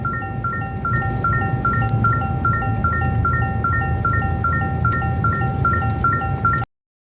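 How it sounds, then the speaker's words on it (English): A 2024 Toyota Tacoma warning chime beeps repeatedly in a steady, evenly spaced pattern of tones over a low cabin hum, then cuts off abruptly. "Enjoy the beeping while we're at it."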